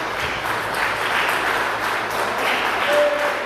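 Church congregation clapping joyfully during a worship service, a steady dense patter of many hands filling the space at moderate loudness, with no clear speech over it.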